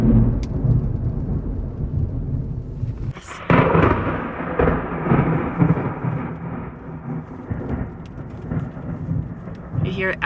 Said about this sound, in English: You hear it echoing against the mountains.